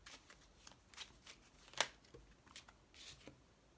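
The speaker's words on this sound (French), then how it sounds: "on fait tomber 5 cartes pour vous" Tarot cards shuffled and flipped down one by one, a run of soft riffling flicks and light slaps with one sharp snap near the middle, close and quiet with no talk.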